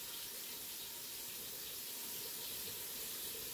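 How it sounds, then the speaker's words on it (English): Running water splashes steadily as rice is washed in a bowl under a tap for coconut sticky rice cakes, a continuous close rushing and gurgling with no talk. "wash the rice with the water a few times like this"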